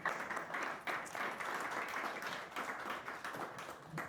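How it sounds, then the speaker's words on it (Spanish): Applause from an audience at an evening panel talk, moderate and steady with a brief dip near the start, heard alone without talk. "Por favor, un aplauso para él"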